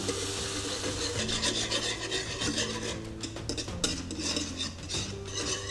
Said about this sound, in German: Die Milch zufügen und umrühren.